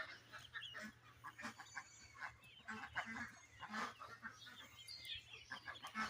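Kalaring duck chicks on a farm peep and call repeatedly in soft, scattered high chirps over a faint steady hum, fairly quiet and continuous.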